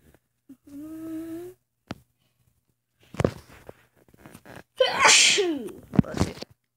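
A sharp sneeze bursts out mid-clip while exploring a Minecraft water temple, preceded by a short tonal hum and followed by a few thuds and clicks, fairly close and loud with no talk over it.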